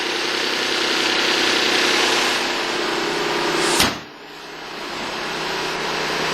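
A Mazda 2.5-liter KLDE V6 idles after a semi-cold start, a steady loud hum heard close up with a sharp knock partway through, after which the drone dips briefly and then settles again.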